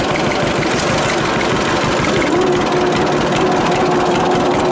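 A 1946 John Deere AR tractor engine runs continuously nearby, a steady loud low chugging idle with a faint whine of gears turning underneath.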